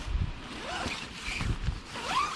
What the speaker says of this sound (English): It has 2 zippers, so you can undo one side or the other, or both.